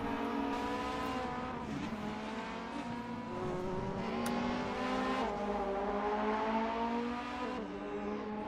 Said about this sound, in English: So there's a slight dab of the brakes and a downshift.